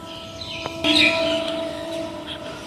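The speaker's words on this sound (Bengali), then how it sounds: "সকালে ট্রেনের আওয়াজ এখনো যায় পুরো আনতে।" A train passes in the morning at moderate distance, giving a steady low rumble with tonal whining and a brief horn-like wail partway through, with no talk.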